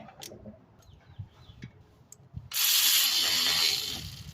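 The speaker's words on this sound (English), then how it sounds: "You tighten that bolt back up." While front brakes are replaced on a 2014–2019 Kia Soul, a bolt is tightened with a short burst of rapid ratchet clicking near the end, preceded by faint scattered clicks and tool handling.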